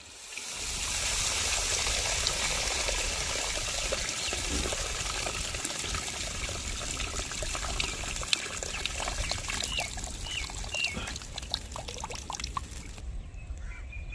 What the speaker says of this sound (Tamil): புளி கரைசல் தண்ணியை ஊற்றிக்கிடுவோம்.